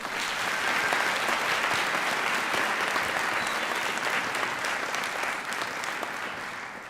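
An audience at a high school Veterans Day celebration gives a lieutenant a sustained round of applause. The dense, even clapping holds at a steady level throughout and fades slightly near the end, with no voices over it.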